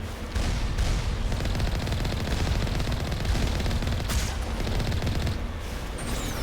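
Heavy turret gunfire in the Mass Effect video game, a dense, continuous barrage of rapid shots and blasts that stays loud and steady throughout with no pauses.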